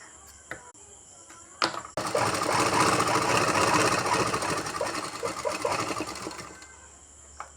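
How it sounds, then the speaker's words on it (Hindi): A sewing machine stitches a blouse pieced from leftover fabric scraps. After a few clicks it runs in one close, steady whirring burst of about four seconds, then stops, with no voices. "ये देखिए हमने आधा सिलाई कर दिया है ब्लाउज़ को।"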